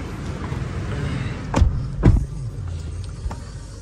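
A noisy Toyota Revo engine drones from inside the cabin while driving, a steady low rumble with two brief heavy thumps midway and no talking.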